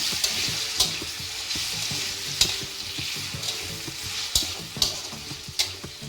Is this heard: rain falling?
no